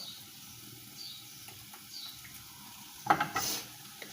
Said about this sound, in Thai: เดี๋ยวใส่ ซีอิ๊วขาวสักหน่อยนะคะ